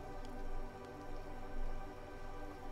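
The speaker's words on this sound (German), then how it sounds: "Sage dir, es ist Wind und es ist Regen" Steady rain pattering on a surface with light drips, a soft, continuous wash at low level with gentle swells and no voices.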